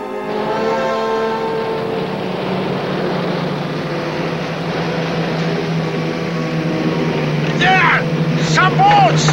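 A motorboat engine drones loudly and steadily close by, with a brief whine rising near the end, and speech occasionally heard over it.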